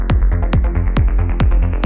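A punchy electronic kick drum hits roughly every half second over a synthesized sub bass line, the low ends of both overlapping and crowding each other in a loud, dense mix with no voices.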